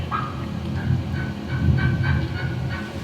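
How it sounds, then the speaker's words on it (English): A wild turkey gobbles repeatedly in rain, bad weather, with several rattling gobbles at a moderate distance over steady background noise, no voices. "he's just gobbling himself to death right there"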